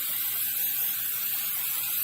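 Cooking spray hisses steadily from an aerosol can over a pan of pepperoni roses, a continuous airy spray lasting about two seconds with no talk.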